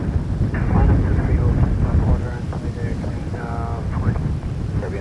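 An airliner at Toronto Pearson Airport gives a steady, fairly loud low roar throughout, with air traffic control radio voices talking over it.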